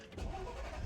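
A van engine runs steadily, a low close rumble with no strong revving, heard briefly from inside the vehicle.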